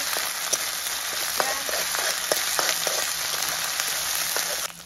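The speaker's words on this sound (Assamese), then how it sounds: "এতিয়া আকৌ বাৰু ভাজিছোঁ" Steady sizzling of crushed ginger spice paste frying in a hot pan, with occasional pops and spatters, ending abruptly.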